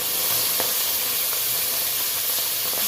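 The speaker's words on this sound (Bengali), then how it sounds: "অল্প অল্প করে সবগুলো ভেজে নেব।" Kuche eel (swamp eel) pieces frying in about two tablespoons of hot oil in a kadai, a steady loud hiss and sizzle with no talking over it.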